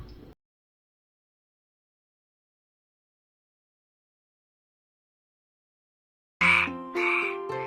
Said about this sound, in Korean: 청개구리.